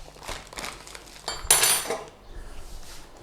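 Cornstarch stirred into apple pie filling in a bowl, with a few close scrapes and clinks of a utensil against the dish and one brief louder clatter.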